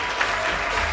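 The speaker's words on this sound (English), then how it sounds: "So let's give everybody a round of applause for Hash right now." Audience applause for Hash at a Hash Night party, dense and steady throughout a brief burst with no voices over it.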